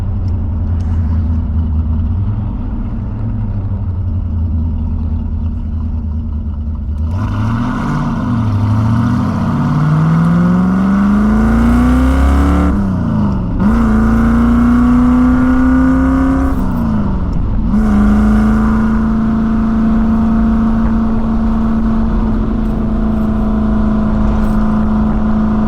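A 1969 Corvette cruising on a warm day, its engine droning steadily close up with a rising pitch as it accelerates through gears, then holding an even hum with no talk.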